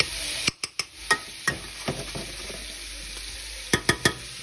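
Ragu of hare meat in large chunks frying and being stirred in a pan, with sharp clacks of a utensil against the pan scattered over a steady sizzle; no talking.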